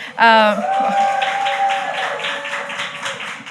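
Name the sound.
audience clapping for the podcast guest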